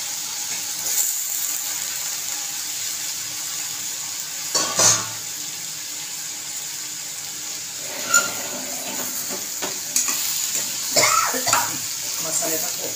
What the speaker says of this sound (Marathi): थोडी चांगली तेलात परतायची